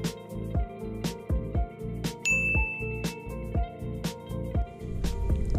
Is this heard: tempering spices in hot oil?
no